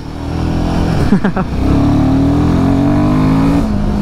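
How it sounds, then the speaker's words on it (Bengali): A Royal Enfield Himalayan 450 motorcycle engine revs up and pulls hard on a road from Siliguri to Gangtok, its rising drone loud and close and steady throughout, with a brief dip and gear change partway through. "ভাই থ্রোটল রেসপন্স কিন্তু বেশ ভালো বাইকটার।"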